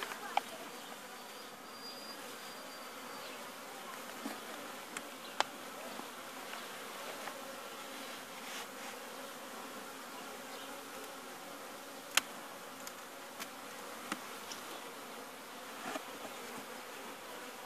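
Bees buzz around a polyurethane beehive outdoors after winter, a faint, steady insect drone with occasional brief nearer fly-bys and small clicks, no voices.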